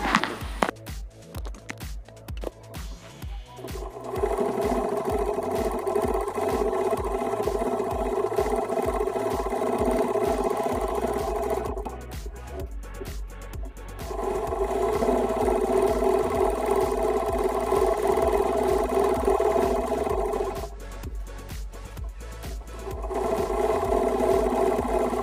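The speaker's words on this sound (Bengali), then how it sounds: "নিয়ে আমি লম্বা সেলাই দিয়ে নেব, ঠিক আছে, তিন দিকে লম্বা সেলাই আমি করে নেব।" A sewing machine runs three long stitching passes along the sides of a pillow cover, each a steady whirring run of several seconds, separated by short pauses with handling noises, close and loud.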